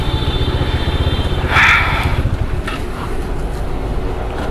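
A motorcycle cruises along a highway in India, its steady loud engine drone mixed with heavy wind rush across the microphone and no talking.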